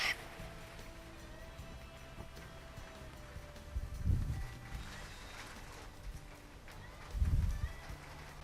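Horse hooves in a dressage arena, with two soft, distant thudding bursts of footfalls separated by quiet low background noise.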